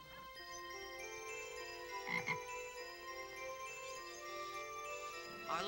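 A frog croaks in a film scene, with faint, steady croaking set against quiet background ambience. A brief louder rasp comes near the middle and another near the end, with no one talking.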